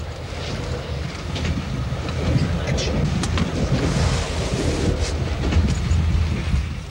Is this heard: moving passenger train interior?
yes